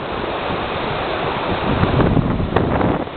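Floodwater rushing in a continuous loud broadband roar after washing out a road, swelling slightly toward the end with no voices.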